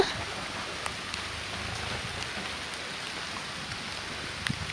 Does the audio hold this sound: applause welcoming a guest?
no